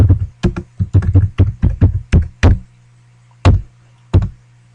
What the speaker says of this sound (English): I'm going to type in my name.